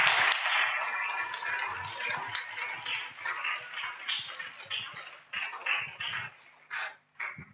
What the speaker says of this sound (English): Let us welcome her with a clap.